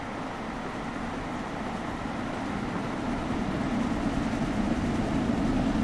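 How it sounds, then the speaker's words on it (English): Steady low rumble of a locomotive in Train Sim World 2 on the Liverpool Lime Street to London Euston line, a continuous engine drone that swells slightly louder toward the end. "you hear that thundering loco as you get closer to the front"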